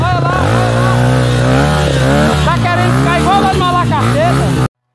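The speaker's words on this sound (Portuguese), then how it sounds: "Tô tirando a moto de pé do meio." A motorcycle engine runs loud and close, its revs rising and falling, as it is pulled upright on a steep hill after tipping over, with people talking over it.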